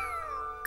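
A cartoonish cat meows in The Sims 4, a single short, clear call near the end of the moment over a steady bed of soft game music.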